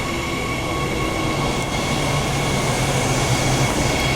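A passenger train rumbles past a station with a steady, loud roar of wheels on track and a faint metallic whine, continuous and close.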